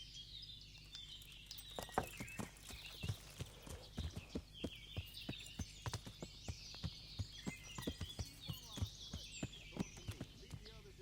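A horse's hooves clip-clop at a steady walking rhythm in the video game Kingdom Come: Deliverance, close and distinct, with ambient outdoor sound and some voices underneath.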